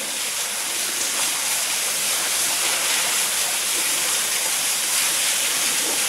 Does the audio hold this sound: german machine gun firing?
no